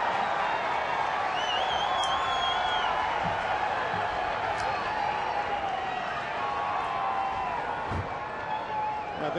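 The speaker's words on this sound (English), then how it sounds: "The biggest roars we've heard from the crowd this afternoon" Ballpark crowd roaring after a strikeout in an afternoon baseball game, a dense sustained wall of cheering and whoops, loud and far-reaching, with scattered whistles on top.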